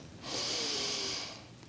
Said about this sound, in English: Breathe deeply in and a long breath out.